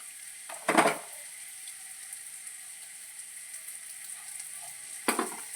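Mango is tempered in hot oil in a pan, giving a constant bright sizzling hiss, with two clanks of a utensil against the pan near the start and end.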